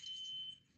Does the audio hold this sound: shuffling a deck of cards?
no